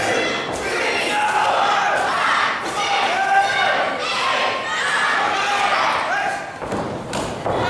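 Wrestling crowd at a UWA Elite Action Zone event chanting in rhythmic unison, loud and sustained with rising and falling calls, under a commentator's voice.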